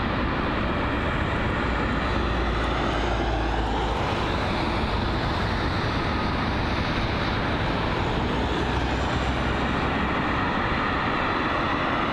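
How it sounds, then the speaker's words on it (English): An arriving airliner on approach to London Heathrow roars as a broad, steady jet rumble that holds loud and constant throughout, with no talk over it. "so we've got an arriving aircraft actually,"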